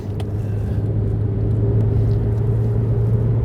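A Porsche 987.2 with a PDK gearbox drives on a track, its engine a steady, close, loud drone as it slows and shifts down, with no voices.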